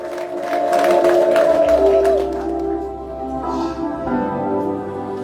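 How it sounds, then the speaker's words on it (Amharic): Church congregation at a worship service cheering and applauding together, with high ululation trills over a dense, sustained crowd roar that dips midway and then swells again. "በኢየሱስ ክርስቶስ ስም እልልታ አስገቡ፣ ጭብጨባ አስገቡ ለኢየሱስ"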